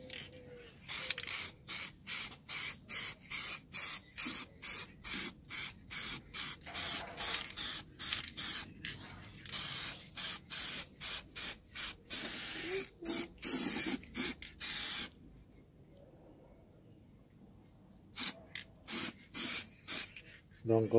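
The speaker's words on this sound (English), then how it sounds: "so let's spray another coat." Spray paint applied as a second coat to a car wheel, a rapid series of short, loud, close hissing bursts in a steady rhythm with a brief pause near the end.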